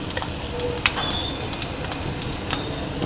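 Turmeric and asafoetida sizzle in hot oil, a close, steady frying hiss dotted with frequent sharp crackles and pops.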